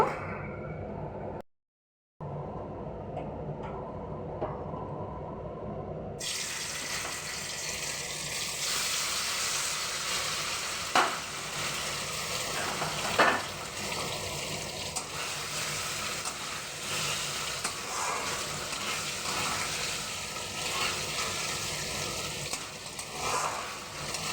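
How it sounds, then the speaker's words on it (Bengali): Paneer cubes frying in hot oil while being gently stirred in a pan, a steady, soft sizzle with occasional scraping clicks, after a brief silent gap near the start. "তেলটা গরম হয়ে গেছে এবার আমি পনিরগুলো হালকা করে জাস্ট তেলে নাড়িয়ে চাড়িয়ে নেব"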